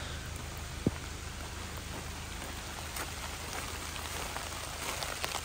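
Steady rain falling on a road in Georgia or Tennessee, a dense continuous hiss of drops spread evenly across the clip, with one brief sharp knock near the start.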